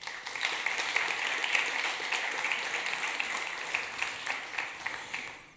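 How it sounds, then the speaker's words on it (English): A conference audience gives a warm round of applause for a security talk, a dense, even patter of many hands at moderate distance that fades slightly toward the end, with no voices. "please give a warm round of applause"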